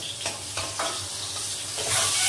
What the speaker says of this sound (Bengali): এই যে পটল ভাজাটা তুলে নিচ্ছি